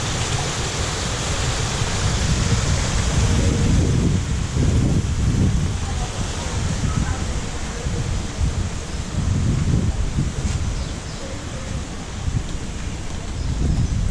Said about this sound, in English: There's some waterfall action going on.